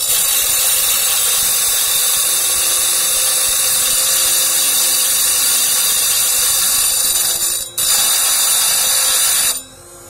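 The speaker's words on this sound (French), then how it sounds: "J'ai réparé ma scie." A repaired saw cuts through a tumbled stone with a loud, continuous high-pitched whine and hiss, steady for several seconds with two brief dips, after which the cutting stops.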